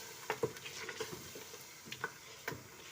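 Goat meat and about 150 grams of yogurt frying together for a shahi korma, with scattered stirring scrapes and soft sizzle spikes, close by and moderately quiet, no talking.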